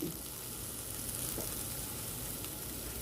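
Two pieces of ginger and sliced onion sizzle steadily in a pan for pork giniling adobo, a dense, even frying hiss throughout with no talk.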